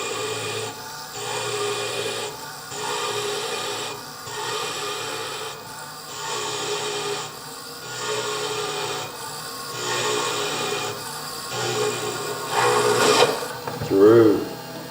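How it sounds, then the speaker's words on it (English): A hole drilled through a stone bead with a 2 millimeter bit, a repeated rasping, grinding whir in pulses of a second or so, close up, ending with a brief clatter. "Okay, now drill."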